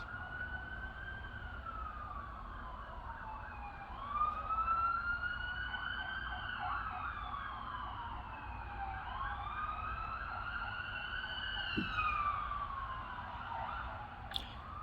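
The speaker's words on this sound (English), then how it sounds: "there's an ambulance coming, so hold on, because it's about to get loud." An ambulance siren wails past with rising and falling tones, swelling louder as it nears and sweeping through repeated up-down cycles over steady traffic rumble.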